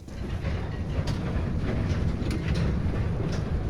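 Ambience of the Overwatch map's Fargo Deep Mine area: a steady rumbling, rattling mechanical sound with faint rhythmic clanks and clicks, like carts on rails, continuous and moderately loud, with no voices.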